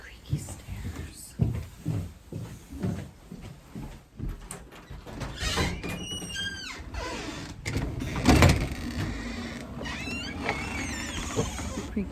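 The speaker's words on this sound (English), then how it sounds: "here we go down the creaky stairs." Footsteps going down creaky indoor stairs, a run of thuds and drawn-out wooden creaks and squeals, fairly close and loud, with someone talking over the first part.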